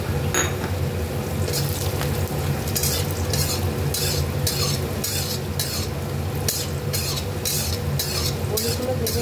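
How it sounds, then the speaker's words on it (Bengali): Sun-dried lentil bori dumplings fry in hot mustard oil in a pan, a continuous close sizzle broken by repeated metallic scrapes and clinks of a spatula stirring against the pan. "এখানে আমি বড়িগুলো ভেজে নিচ্ছি।"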